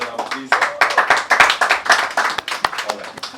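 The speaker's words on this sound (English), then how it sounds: "Please give me a round of applause." A Bollywood magazine cover launch audience claps in a round of applause, uneven individual hand claps close by with a voice talking over them.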